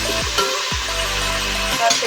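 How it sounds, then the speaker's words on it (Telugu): Chopped onion frying in oil in a pan, cooked until golden for aloo pulao, with a steady loud sizzle and a few low scraping stirs of a spoon cutting through it; no talking. "ఆనియన్ వేసుకొని కొంచెం కలపాలి. కొంచెం గోల్డిష్లో వచ్చేదాకా కలుపుకోవాలి ఫ్రెండ్స్."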